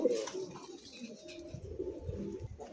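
Putul Gorra pigeons at a pigeon sale coo in low, throaty bursts close by, with softer bird sounds and faint background noise between the calls.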